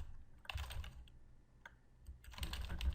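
Keystrokes on a computer keyboard while text is entered into a translation app, two quick clusters of close, crisp clicks separated by a brief pause, with no voice.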